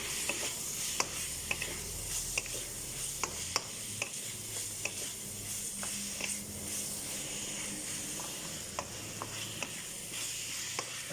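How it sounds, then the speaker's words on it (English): Ingredients sizzle and hiss steadily in a pan for an Egyptian spinach beef stew, with repeated sharp clicks and scrapes of a spoon stirring, heard up close and at moderate loudness with no talking. "So I'll continue to fry these."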